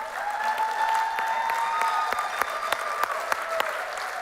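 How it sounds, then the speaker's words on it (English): An audience applauds the 2024 Gold & Silver Circle inductees at an induction ceremony, steady dense clapping filling the room with a few sharper individual claps standing out near the end, and a faint voice underneath. "Clap for you. Come on."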